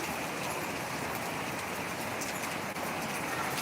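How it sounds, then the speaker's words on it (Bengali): Steady, dense hiss of heavy rain falling continuously, a broad wash of noise with no gaps and no voices. "দেখো কত বৃষ্টি হচ্ছে প্রচুর পরিমাণে বৃষ্টি হচ্ছে"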